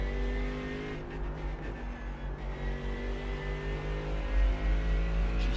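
LMP1 prototype race car engine at Suzuka in iRacing, a steady, droning high-revving hum with harmonic whine held throughout, fairly quiet and alone with no talk.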